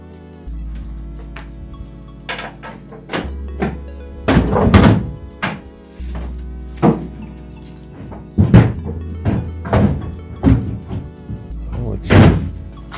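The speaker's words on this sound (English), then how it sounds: "We need to go ahead and put our tailgate up there." A truck tailgate is lifted and fitted into place, giving a series of heavy metallic thunks and clanks spread irregularly over several seconds, close by with a low background hum.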